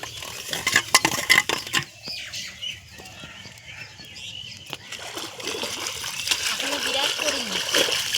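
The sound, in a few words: washing and scrubbing a plate with water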